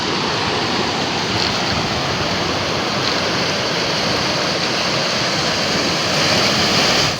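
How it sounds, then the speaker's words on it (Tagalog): Strong ocean waves at high tide crash and wash on the shore in a continuous loud roar of surf and spray, steady throughout with a slight swell near the end. "Ay, lakas alon."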